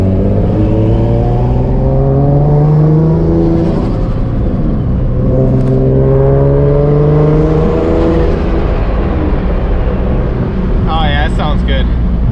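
A single-turbo Nissan 350Z engine revs up and settles repeatedly, rising and falling in pitch, loud and close, with a brief high whine near the end; no exhaust leak.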